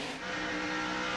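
A NASCAR race car roars past at the 2001 Food City 250, a brief, loud, steady engine rush filling the moment with no voices over it.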